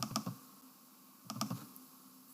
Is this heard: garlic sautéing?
no